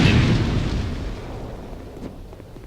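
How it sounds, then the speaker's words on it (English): In Dark Souls II, an explosive barrel bursts and blows open a stone wall, a loud close boom at the start that decays into a rumbling tail with a few faint debris clatters. "you can blow open this wall with the barrel"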